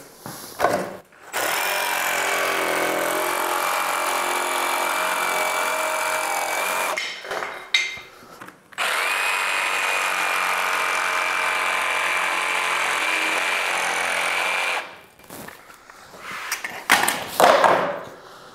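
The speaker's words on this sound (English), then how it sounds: "So you can use a jigsaw with cuts like this." A jigsaw buzzes loudly and steadily as it cuts a real wood flooring plank, running in two long passes of several seconds each, separated by brief clunks and handling knocks.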